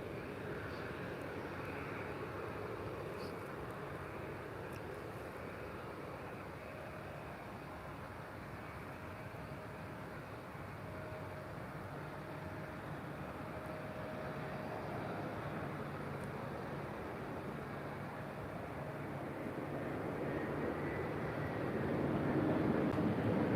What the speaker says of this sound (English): Landing coming in.